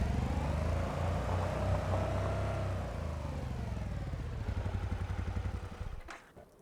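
A quad bike's engine in Farming Simulator 25, a steady close motor drone with rising and falling revs that fades out near the end, heard alone on a cold, windy farm.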